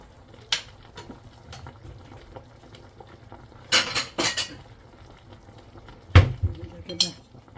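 A plate fetched and handled in a home kitchen while cooking stuffed vegetables (mahshi), with sharp ceramic and cutlery clinks and knocks in scattered bursts, close by over a quiet background.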